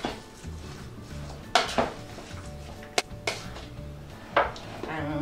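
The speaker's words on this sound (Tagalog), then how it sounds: "Mix lang po natin." Homemade beef burger ingredients are mixed in a bowl, with a spoon clinking and scraping against the dish in a few distinct knocks over a low background hum.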